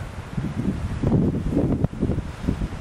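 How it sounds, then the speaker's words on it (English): Gusty wind buffeting the microphone, rumbling and rising and falling in strong bursts outdoors in the Catskills mountains, New York. "It's a very windy day today"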